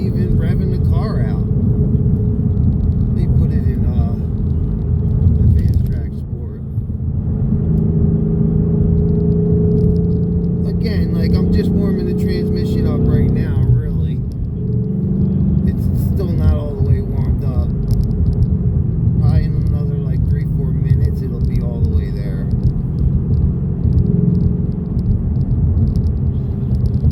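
A Ford Mustang engine idles and runs in advanced track sport mode, a deep, steady low rumble with a faint whir throughout, while someone talks over it close by.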